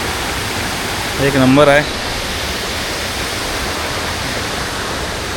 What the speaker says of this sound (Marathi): बघा त्यांना पाणी इथून जातं बारक्यालाने.